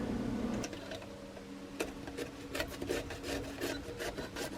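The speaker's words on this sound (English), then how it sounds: "Cannot believe how much time grating this zucchini takes." Zucchini being grated on a hand grater, a series of rasping scrapes in an irregular back-and-forth rhythm, close and moderately loud, no talking.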